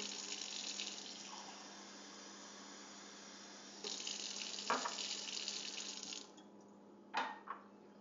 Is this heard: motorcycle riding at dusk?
no